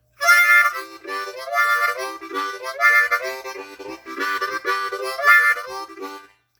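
A blues harmonica trills rapidly between holes 4 and 5 as the instrument is shaken back and forth, giving a bright warbling wavering tone in several close, loud phrases with short gaps and no talking.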